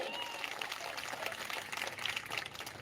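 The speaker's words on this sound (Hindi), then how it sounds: "तो गीता जी के लिए जोरदार तालियां हो जाए।" A faint, distant crowd claps steadily for Geeta Jain at an outdoor political rally in Mira Bhayander, a thin, even crackle of applause with no clear voices.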